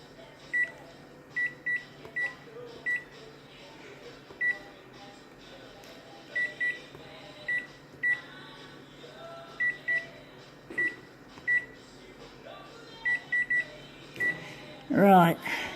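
Short electronic beeps repeat at an irregular pace, mostly in pairs and threes, fairly clear over a quiet room hum, with a louder burst of noise near the end.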